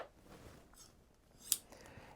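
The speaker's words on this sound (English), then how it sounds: "I bought these scissors They're called LDH scissors." A pair of 10-inch LDH scissors from Canada gives a single crisp snip near the midpoint, set against quiet room noise with faint handling sounds around it.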